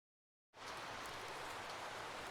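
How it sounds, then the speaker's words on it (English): Video game rain begins abruptly after a moment of silence, then a loud, steady wash of falling rain continues evenly with no voices. "It's raining. Magnificent. Just for the mood."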